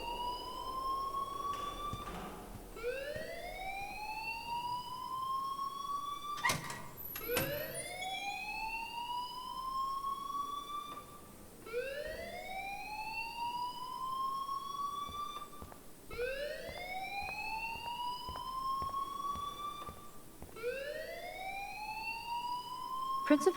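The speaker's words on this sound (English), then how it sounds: "please turn off that alarm since that's your job" A fire alarm blares in the video game Life is Strange, a loud electronic wail rising in pitch again and again in a steady cycle of sweeps, with no speech.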